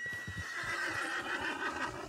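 A horse in Red Dead Redemption 2 Online whinnies in a drawn-out, shaky neigh over a low rumbling background, fairly close and clear, with no talking.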